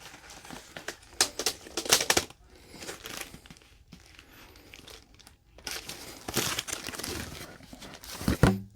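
A bubble-wrapped package of graded cards is opened up close, giving bursts of loud crinkling, rustling and tearing plastic with short pauses between them and a sharp crunch near the end.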